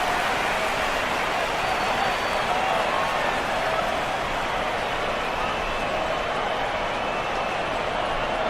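A dense, steady stadium crowd roar fills AFL Evolution on PS4 as Collingwood and the Western Bulldogs run on before the opening siren. It is a continuous broadband wash of cheering with no breaks.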